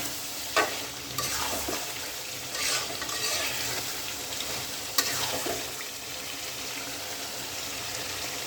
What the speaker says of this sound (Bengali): আলুটাও কষাই নিচ্ছি আমি।